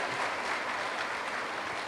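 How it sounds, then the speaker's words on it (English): Graduates and guests at a commencement ceremony applauding the parents, a short, moderately loud patter of many hands clapping with no voices. "Let's give them a big round of applause to our parents"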